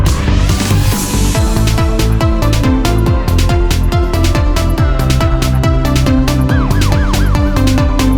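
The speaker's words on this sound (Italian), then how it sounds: "già dentro il quartiere sento le sirene" A wailing police siren effect rises and falls within the dense beat of an Italian rap song, loud and mixed in with the music.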